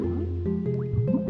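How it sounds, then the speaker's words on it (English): Water swimming effects from the Banjo-Kazooie video game in Bubblegloop Swamp, with steady liquid splashing and gurgling over game music. "I'm swimming in the water."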